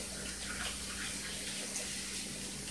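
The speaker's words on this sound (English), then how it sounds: "let me just wash my hands" Running tap water pours steadily at a kitchen sink while hands are washed, a constant close hiss and splash with no breaks.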